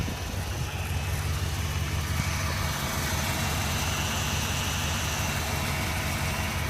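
A high-mileage 1997 BMW 540i V8 idles steadily, a close, even low-pitched rumble that holds without change throughout.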